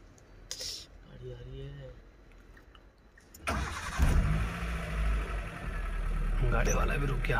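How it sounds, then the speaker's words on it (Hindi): A car on the road at Dhangarhi Gate in Jim Corbett National Park approaches with a low engine rumble that grows louder and fuller halfway through, while people talk nearby. "वो गाड़ी आ रही है ना"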